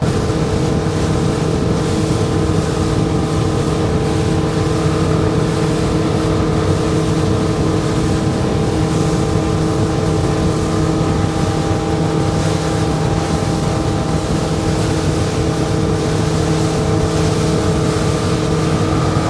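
A 2022 Sea Pro 219 motorboat engine roars loud and steady at full throttle on Peconic Bay, with a constant droning hum and rushing water and wind noise.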